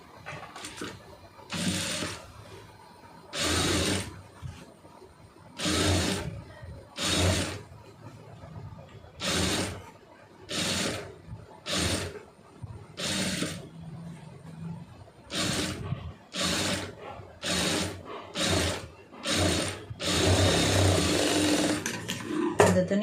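Sewing machine stitching a puff sleeve onto a lined blouse, running in short bursts of rapid mechanical whirring separated by brief pauses, close and clear with no talking.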